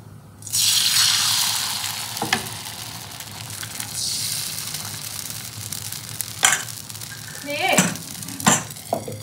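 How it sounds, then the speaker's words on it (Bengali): An oiled, unglazed clay cooking pot heats over a flame and is stirred, giving a steady loud sizzling hiss with a few scraping clatters toward the end and a voice speaking under it. "খুব ভালো করে এটা নেড়ে নিচ্ছি।"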